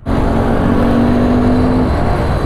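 A Honda Grom motorcycle engine runs loud and close with a steady, sustained drone through the whole stretch, holding a constant pitch rather than climbing in revs.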